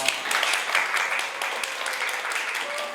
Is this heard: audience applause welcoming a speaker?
yes